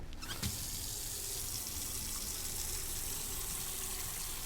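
Water pours steadily from a tap into a bucket for a lung float test in the Autopsy Simulator game, a continuous close hiss and gush that starts abruptly and runs unbroken to the end.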